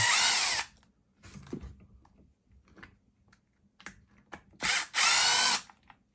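A small power driver whines in short bursts while removing the back bumper of an Arrma Grom RC car, with quiet clicks and handling of parts between the two loud runs.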